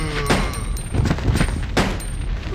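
Rapid bursts of gunfire from Resident Evil Code Veronica X, loud shots in quick uneven succession over a steady game background, with no voices.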